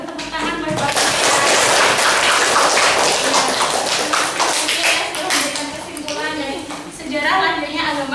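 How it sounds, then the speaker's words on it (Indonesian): Students in a classroom clap their hands together in a loud, dense burst that fades slightly toward the end, with voices mixed in underneath. "Boleh tepuk tangan buat"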